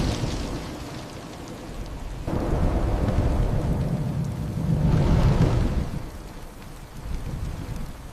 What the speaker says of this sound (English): Within moments, heavy rain began to pour.